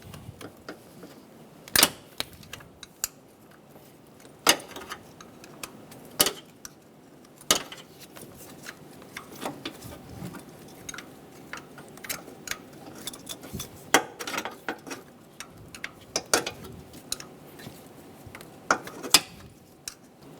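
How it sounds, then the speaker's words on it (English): Ratchet clicks and small metallic taps from a socket wrench loosening 10mm coil pack bolts on a 2010-2014 Subaru Outback engine during a valve cover gasket job, sharp close ticks scattered irregularly over a quiet background. "Remove the 10mm bolts for the coil packs."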